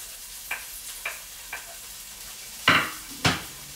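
Tomato paste and garlic being stirred in a hot pan while cooking chicken Marsala, with soft scraping strokes and a few louder clinks over a gentle sizzle.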